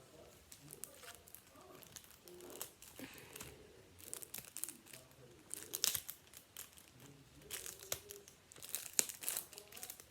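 Foil wrapper of a football trading card pack being torn open and crinkled by hand, with repeated crackling bursts up close over several seconds and no talk.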